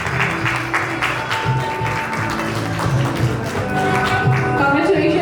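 At a company's 28th anniversary celebration, an audience claps steadily for an honoree, with crisp overlapping hand claps over a faint musical hum and some background voices.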